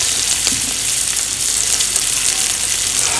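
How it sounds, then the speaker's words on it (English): A beef patty sizzles in a hot pan for a few seconds, the frying noise dense and constant up close, with no other sounds. "I'm only cooking one side of the patty"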